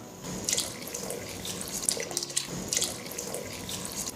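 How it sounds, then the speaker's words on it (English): Soaked barley going into a pot of boiling water, a steady watery rush and sloshing with a few brighter splashes, close by and alone without talk. "I'm going to place our soaked barley into our boiling pot of water."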